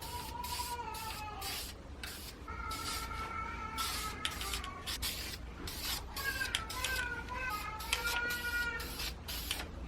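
Aerosol spray paint goes on as a second coat over custom door panels for a 2003 Saab 9-3, heard as many short, close hissing bursts in an irregular rhythm with brief gaps.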